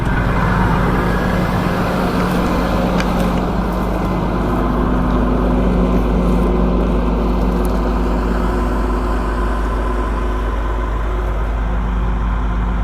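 A farm tractor engine runs steadily during stubble cultivation of triticale, a constant low diesel drone with a stable hum, close and loud throughout, no talking.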